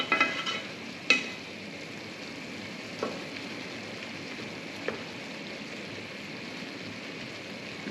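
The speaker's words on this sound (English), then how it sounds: "that liquid is continuing to boil down" Pepper sauce of cooked peppers sizzles steadily in a pan as the liquid boils down, a constant close frying hiss broken by a few faint scrapes and taps of stirring.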